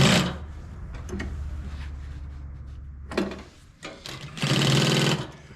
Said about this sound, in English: We're sewing through 2 thicknesses now.